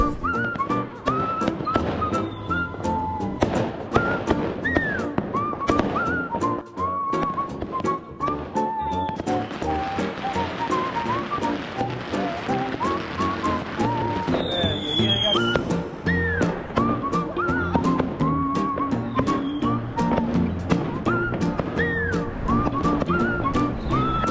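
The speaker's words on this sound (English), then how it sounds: "The sound of fireworks just does not stop." Near-constant crackle of Chinese New Year fireworks going off, dense sharp bangs and pops layered over each other for the whole stretch, with whistling rockets and voices in the background.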